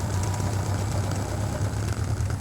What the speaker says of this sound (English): It's idling at about 450 revolutions per minute.